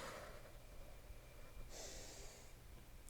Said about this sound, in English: Breathing out. You can hear it.